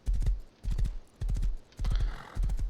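Horse hooves clip-clop along a road in the survival game Rust, five quick clusters of hoofbeats in a steady galloping rhythm, close and fairly loud with no talking.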